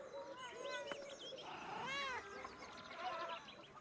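A cat meows several times in the medieval mystery game Pentiment, its rising and falling calls repeating over a steady background of game music and ambience, with a voice talking softly underneath.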